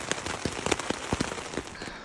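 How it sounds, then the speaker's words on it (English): Rain falls on a tent at night after thunderstorms on the Slate Islands of Lake Superior, making a steady close patter with scattered sharper drops striking the fabric. "The thunderstorms have passed, so now it's just mostly rain"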